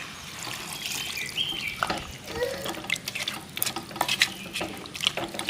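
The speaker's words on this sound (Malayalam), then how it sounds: "നമുക്കത് വേഗാനുള്ള വെള്ളം ഒഴിച്ചു കൊടുക്കാം" Water splashes and trickles into a pan of chicken curry for a coconut-based roasted masala gravy, a close, uneven pour with small bubbling splashes and scattered drips.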